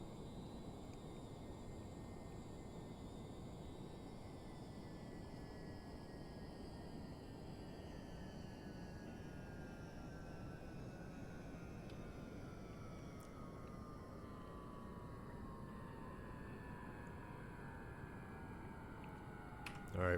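An aircraft engine drones at full thrust in a video game, a faint, steady roar with a slowly sliding whine that holds unbroken throughout.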